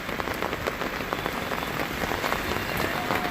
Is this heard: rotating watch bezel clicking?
no